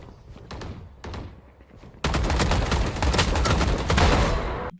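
Three-shot burst gunfire from the video game Valorant, with a couple of separate short bursts followed by a louder, dense stretch of rapid shots lasting a few seconds.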